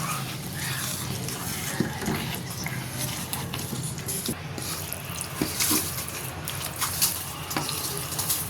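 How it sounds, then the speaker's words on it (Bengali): Fried eggplant is mashed in a kadai for begun bharta. Wet, squelching presses and scrapes of a spatula against the pan repeat unevenly over a low background hiss, with occasional louder knocks and no talk. "কড়াইতে থাকা অবস্থায় এটাকে একটু মেশ করে নেব"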